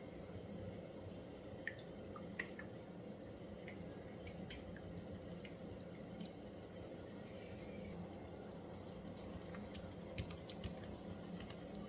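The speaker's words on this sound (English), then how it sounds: "I think I'm going to add a little bit of water" Faint liquid drips and small splashes as water is added to a thick starch mixture, scattered over a low, steady background hum, soft and close with no talking.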